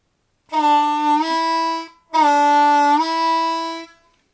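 Two sustained harmonica draw notes, each bending down a whole step in pitch and then settling, played close and clear with a short gap between them.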